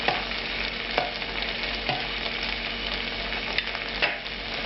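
Angel hair pasta tossed in melted butter in a pan, a continuous close sizzle broken by several sharp metallic taps and scrapes as it is stirred around.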